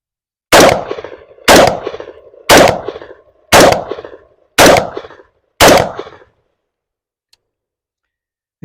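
Six AR-15 rifle shots ring out one after another at roughly one-second intervals, each a loud sharp crack with a short decaying tail, followed by silence.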